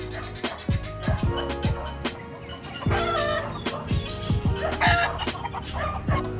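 Chickens cluck and cackle in a busy, irregular series of sharp calls, fairly close, with farmyard noise underneath.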